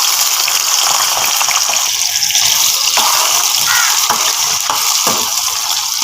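Taro pieces frying in hot ghee in a pan, a loud, dense, steady sizzle and crackle heard up close and alone, with small pops scattered through it.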